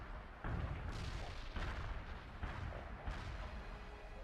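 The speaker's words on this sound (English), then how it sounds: "Coordinates locked down. Shells on the way." Artillery shells strike in the strategy game World in Conflict, a series of deep, heavy booms rolling one into the next over about four seconds, dense and rumbling, with no pauses between them.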